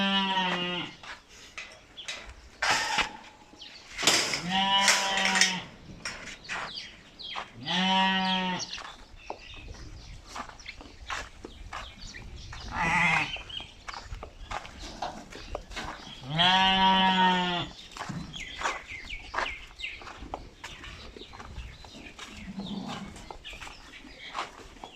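A goat and fat-tailed sheep kept indoors bleat loudly and close by, several drawn-out calls spaced irregularly among rustling and shuffling sounds, with no speech.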